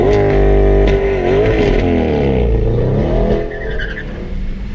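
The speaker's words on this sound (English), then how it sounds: "We are running a Tesla Plaid." A 2021 Tesla Model S Plaid launching at a quarter-mile drag strip: a loud, close rush of drivetrain noise with rising and falling tones and tire squeal, easing off near the end.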